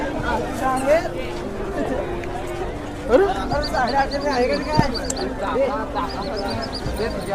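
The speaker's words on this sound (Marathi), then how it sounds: "बडी काय गर्दी" Dense crowd chatter fills the Babadoli yatra village fair, a steady babble of many voices nearby with occasional louder calls and shouts rising above it, along with faint bird chirps.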